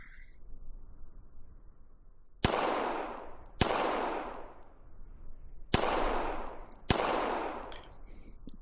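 Four sharp gunshots crack out during a shooting drill at targets, firing in two spaced pairs, each loud report trailing off in a short echo over quiet outdoor background.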